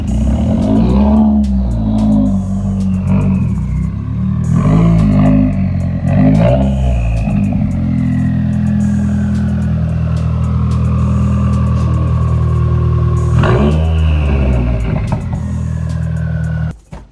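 A car engine with a turbo spools and whooshes while driving through snow, its loud revving rising and falling in several pulls and sustained roars from close inside the vehicle.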